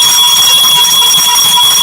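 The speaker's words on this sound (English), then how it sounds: "We're going to ring the bell for the Burnham Foundation." A bell rings continuously and loudly for about two seconds, a steady bright metallic ringing that fills the whole clip with no talk.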